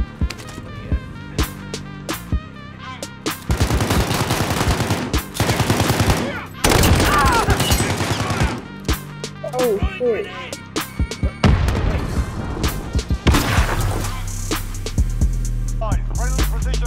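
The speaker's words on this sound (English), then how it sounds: "Someone's shooting at me." Rapid automatic gunfire and booms in Call of Duty Warzone, loud repeated bursts and single shots filling the scene, with players talking over the shooting.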